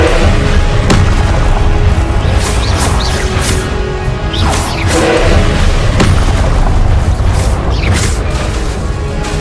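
Explosive Confringo spell blasts in Hogwarts Legacy, loud booming bursts going off repeatedly over dense, continuous combat noise with crashes layered throughout.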